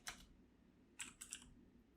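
A few quick keystrokes on a computer keyboard as a file name is typed, with one short burst followed by a brief cluster of clicks, close and fairly quiet over a low background hum.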